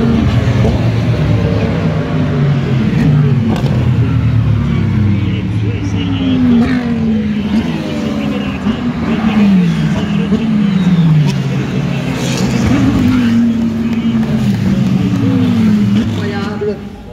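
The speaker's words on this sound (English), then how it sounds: "La dernière accélération et la victoire de la Porsche numéro 20 de Kevin Estre" The number 20 Porsche race car at the Spa 24 Hours accelerates hard, its engine rising in repeated sweeps as it climbs through the gears, loud and close beneath French commentary.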